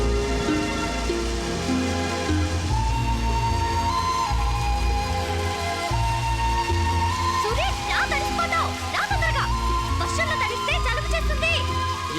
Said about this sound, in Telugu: ఏంటిది చినుకులు పడుతున్నట్టుందే? పడుతున్నట్టు కాదు,